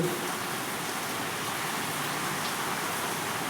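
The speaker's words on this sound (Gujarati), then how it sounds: "અને અત્યારે હજી વરસાદ ચાલુ જ છે" Heavy rain pours down in a flooded village area, a dense, steady roar of water with no breaks, loud and close, with no voices.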